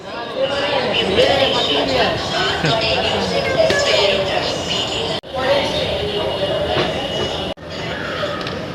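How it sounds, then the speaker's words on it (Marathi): A Mumbai metro train rumbles steadily and loudly for most of the stretch, its sound broken by two brief dropouts, while people talk over it throughout. "ट्रेन लागले इकडे"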